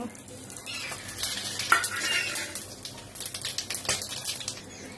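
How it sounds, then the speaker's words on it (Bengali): Whole spices of cumin, dried chili, bay leaf, cinnamon, cardamom and clove hit hot oil in a pan, setting off a steady crackling sizzle with a few scrapes and clinks of a stirring spoon, close by and without talk. "এবার এই তেলে দিয়ে দেবো গোটা মশলা। এখানে আছে জিরা, শুকনো লঙ্কা, তেজপাতা, দারচিনি, এলাইচি, লং।"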